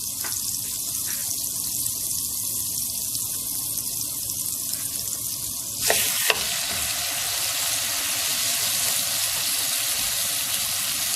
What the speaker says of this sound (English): Sear the steak on both sides for a few minutes over high heat until they're browned on the outside